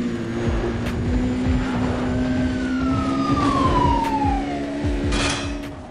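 Police car sirens in the video game Need For Speed Undercover wail steadily and loudly over a rumbling car engine, with one siren tone sweeping downward midway through a chase.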